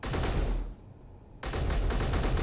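Rapid automatic gunfire from a weapon in the video game Space Engineers, loud bursts of shots that pause briefly near the middle before resuming at full intensity.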